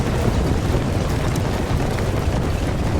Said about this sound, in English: They came under heavy fire from Russian artillery.